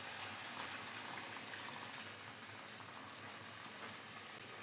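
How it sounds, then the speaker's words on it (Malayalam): Thick first-press coconut milk poured into a chicken curry made without added water gives a faint, steady liquid hiss and bubbling, continuous and even throughout. "ഇനി ഇതിലേക്ക് നമുക്ക് 1-ാം പാലും കൂടെ ഒഴിച്ചു കൊടുക്കണം."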